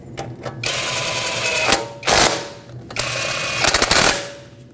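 An impact wrench or ratchet tightens the strut knuckle bolts on a 2007-2017 Ford Expedition in several loud, close bursts of rapid mechanical rattling separated by brief pauses.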